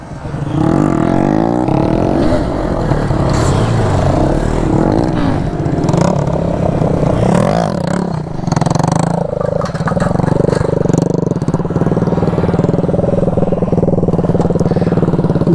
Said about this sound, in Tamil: கொஞ்சம் கொஞ்சமாக அடுத்த த்ராட்டில் கொடுத்து கொஞ்சம் தூரம் போய் அப்புறம் கூட இறக்கிக்கும்